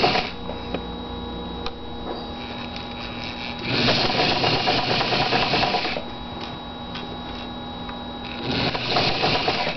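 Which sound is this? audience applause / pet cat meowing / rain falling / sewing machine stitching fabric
sewing machine stitching fabric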